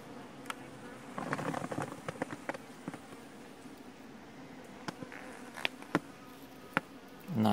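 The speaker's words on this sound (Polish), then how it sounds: "pszczoły gęsto." Honeybees buzzing at an open hive in an apiary in August, a steady faint hum with occasional close individual bees passing and soft clicks of handling.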